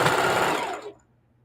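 A sewing machine runs a short continuous stitching burst on a pillowcase, a close buzzing whir that winds down and stops, leaving near silence.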